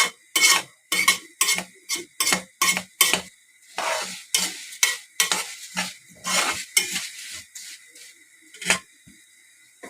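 Vermicelli frying in a pan and stirred with a utensil, rhythmic scraping strokes repeating steadily over a soft sizzle, close and clear without talk.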